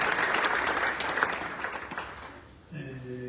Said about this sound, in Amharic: አንድ ጊዜ ለመጨረሻ አጨብጭቡ።